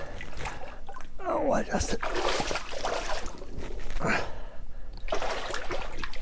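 Water splashing and sloshing in repeated bursts as someone wades into Muckross Lake, close and moderately loud, with a brief spoken exclamation.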